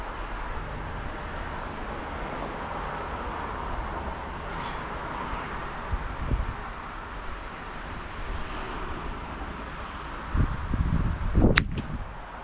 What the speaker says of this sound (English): I hear them hitting the target, so that's nice.